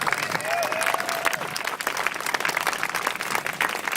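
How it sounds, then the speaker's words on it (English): A crowd applauds and cheers outdoors in the rain at a silent protest in London for elephants and rhinos, a steady mass of clapping with a few rising whistles near the start, and voices mixed into the noise. "I want to give yourselves a round of applause"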